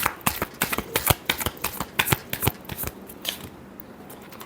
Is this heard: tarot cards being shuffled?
yes